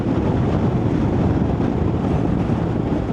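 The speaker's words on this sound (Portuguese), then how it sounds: "Nossa, mas que ventania que tá aqui. Horrível." Strong wind buffets an outdoor microphone near a racetrack, a loud, constant low roar and rumble that fills the whole clip without letup.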